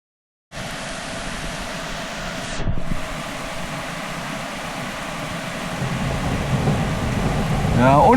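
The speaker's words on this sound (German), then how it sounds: "Ja, und der dazugehörige Donner." Thunder rolling during an evening thunderstorm in Friedrichshafen in August, a broad continuous rumble with wind and rain noise that swells toward the end, and a voice briefly heard near the close.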